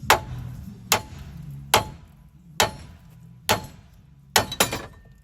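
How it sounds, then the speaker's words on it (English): Sledgehammer blows on a car's steering knuckle during Chrysler suspension work, six sharp metallic strikes spaced roughly a second apart, the last two close together, with no talk. "Should be able to tap the knuckle, take said sledgehammer"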